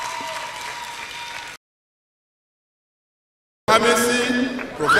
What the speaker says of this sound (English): Please give him a round of applause properly.